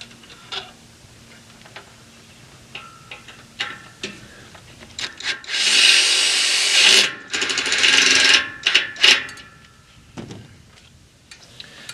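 A power drill drives screws into a wall piece of a high tunnel, with short whirring bursts and a longer loud run in the middle among scattered ticks and knocks.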